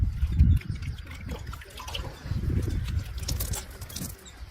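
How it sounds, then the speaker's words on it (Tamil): A white cloth is rinsed in a bowl of water to check for watermelon dye, with soft, close sloshing and splashing in uneven bursts and no talking. "இது என்ன பண்ணணும்னா, தண்ணியில அலசணும்."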